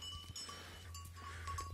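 Goats in a pen shared with chickens, a faint bleat over a steady low hum and quiet farmyard background, soft and somewhat distant.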